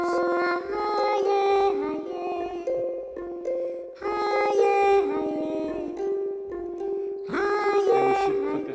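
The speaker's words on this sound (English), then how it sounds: "So I'm just going to put it up by about 1 octave, and you can actually hear what it sounds like" A human voice pitch-shifted up by about an octave sings and sustains tones, coming out thin and howl-like, loud and continuous, with a few short pauses and no normal speech.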